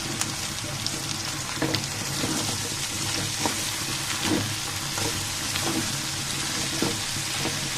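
Cubed okra tossed into potatoes already frying in hot oil, a dense continuous sizzle with a watery crackle and soft stirring knocks throughout.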